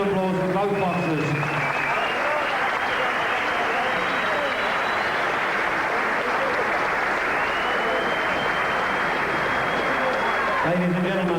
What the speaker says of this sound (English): a nice round of applause for both boxers